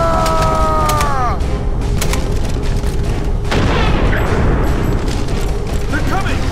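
Weapons fire at ravagers in the video game Earth Defense Force 2017 on Inferno difficulty: dense booming blasts and rapid gunfire crackle continuously under a shouting voice.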